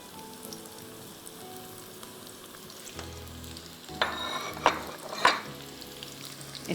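Chopped onions and cumin seeds frying in a karahi give a steady soft sizzle that swells into louder crackling bursts midway, with no voices.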